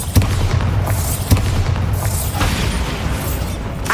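A Bombarda blasting spell goes off in the video game Hogwarts Legacy, giving a loud booming burst with a couple of sharp pops over a busy, rumbling game soundscape.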